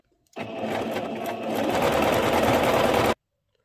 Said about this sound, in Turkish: Bu dikişi komple dikip bitireceğim.